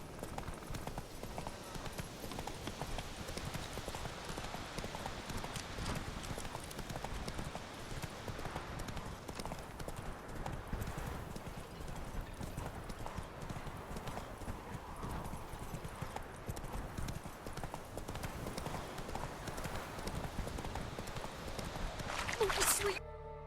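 In The Witcher 3 video game, a horse gallops with continuous rapid hoofbeats, a steady clip-clop rhythm, under occasional talking, ending with a brief sharp sound.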